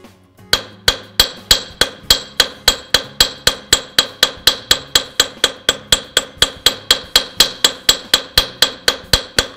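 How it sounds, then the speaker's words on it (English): Rapid, evenly spaced hammer blows on a brass bracelet, struck with a jeweler's sledge hammer at a slight angle, about three per second, ringing bright and close, continuing steadily throughout. "by hammering on a slight angle, it keeps the shape tight"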